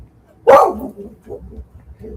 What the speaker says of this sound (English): You're barking at like anger or something.